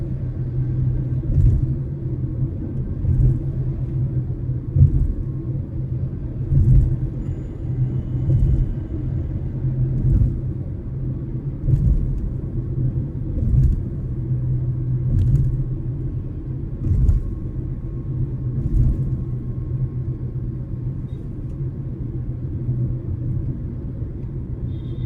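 A car drives over a rough flyover with a sudden speed breaker, giving a continuous low road rumble broken by repeated dull thumps and jolts as the suspension hits bumps, with no talk.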